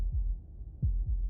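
A low, muffled heartbeat sound effect from a video game gives three soft thumps in about a second, quiet and alone with no talk.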